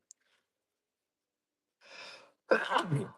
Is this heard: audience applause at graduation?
no